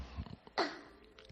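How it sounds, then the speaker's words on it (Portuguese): A small child coughs a few times, held close on a parent's lap, with two or three short bursts spread across a quiet moment. "Desculpa essa tosse aqui do meu filho que está aqui no meu colo."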